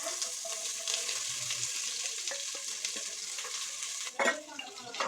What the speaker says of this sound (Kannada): ಈರುಳ್ಳಿ ಸ್ವಲ್ಪ ಫ್ರೈ ಆಗಬೇಕು, ಬ್ರೌನಿಶ್ ಆಗಿ ಫ್ರೈ ಆಗಿದೆ